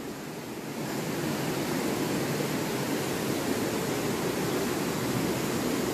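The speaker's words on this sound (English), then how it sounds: "Love the sound of rushing water" A brook rushes beneath a wooden covered bridge as a steady, loud broadband wash of water. The sound swells in during the first second, then holds evenly with no voices.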